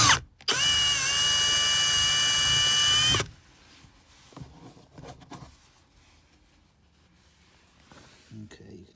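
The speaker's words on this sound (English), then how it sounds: "I don't know that it really matters what size, but this is a 5/32 drill bit." Drill with a 5/32 bit boring through the liftgate panel of a 2007 Yukon XL, one steady whining run of about three seconds, close and loud, followed by faint handling and rustling.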